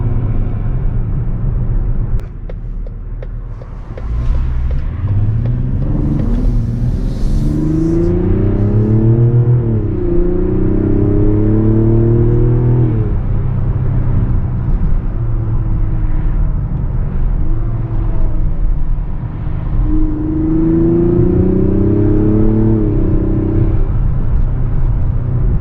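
A 2024 Mazda CX-90 3.3 Turbo S Premium accelerating from inside, its engine rising in pitch through gears twice over a steady road rumble, loud and close with no speech.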